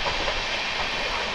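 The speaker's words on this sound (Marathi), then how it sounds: "मी आता आहे ट्रेनमध्ये जे लोकमान्य टिळक टर्मिनसवरून सुटलेली आहे" A passenger train out of Lokmanya Tilak Terminus, bound for Thiruvananthapuram, runs with a steady, dense rumble and hiss heard from on board, continuous and fairly loud throughout.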